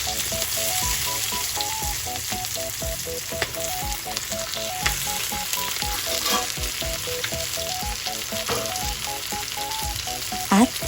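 Cooked pork goes back into a hot frying pan and sizzles loudly and continuously, with occasional stirring clicks, while gentle background music plays throughout.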